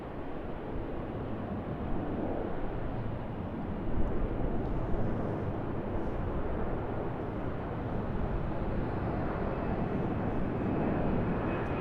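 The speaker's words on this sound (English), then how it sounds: "That aircraft in the background, a Qantas 737." A Qantas airliner taxiing at Sydney Airport sends out a steady, broad jet engine roar that holds at moderate loudness throughout, with no talk over it.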